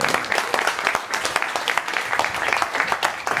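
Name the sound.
audience applause for a speaker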